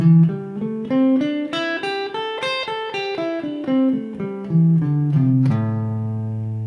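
A guitar plays the first position of the pentatonic scale, single notes stepping up then back down in an even, steady rhythm before ending on a sustained low note, close and alone with no talking.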